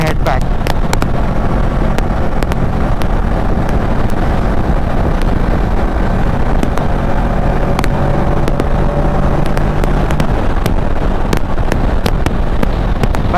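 A Kawasaki Versys 650 motorcycle cruising at about 150 km/h, a loud constant roar of engine drone mixed with heavy wind rush buffeting the microphone, with no break in the sound.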